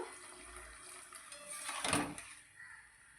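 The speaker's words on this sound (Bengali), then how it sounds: "আমি দিয়েছি একদম অল্প করে জল দিচ্ছি নামমাত্র" A small splash of water poured into tomato chutney, a brief soft gush peaking near the middle and fading away, quiet and close with no talking.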